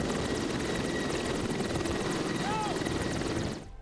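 An Mi-24 Hind attack helicopter, powered by two turboshaft engines, roars steadily and loudly with a dense rotor and turbine drone that holds for several seconds, then cuts off abruptly at the end.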